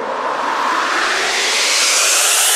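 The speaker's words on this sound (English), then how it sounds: "Then you want a riser, like when the drop hits." A rising noise riser for an electronic drop in the style of The Chainsmokers, a washy, reverb-soaked sweep that climbs steadily in pitch and brightness over nearly three seconds, loud and alone.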